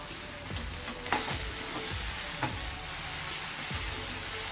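Curry sizzles quietly in a small, crowded kadhai while a spoon stirs and scrapes through it in a few soft, irregular strokes, close by with no talk.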